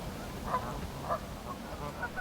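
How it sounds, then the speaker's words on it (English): Several Canada geese honk in short, separate calls spread across a quiet riverside on the Bow River near a weir, distant and moderately faint over steady background ambience. "These Canada geese, well, they're probably local."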